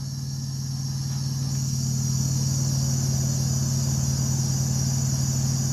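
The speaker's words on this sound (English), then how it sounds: "we got a little bit of a squeak on the belt" A running Thermo King TriPac on a truck drones steadily with a loud low hum, while a thin, continuous high squeal from the slipping alternator belt rides over it throughout.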